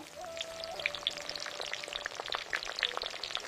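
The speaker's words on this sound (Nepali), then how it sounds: "अब 10-12 मिनट गोल्डन ब्राउन हुनेसम्म फ्राई गर्नुपर्छ" Battered chicken deep-frying in hot oil until golden brown, a steady dense sizzle with crackling pops and spatters throughout, no voices.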